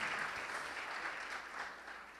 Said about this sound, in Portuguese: uma salva de palmas para todos aqui agora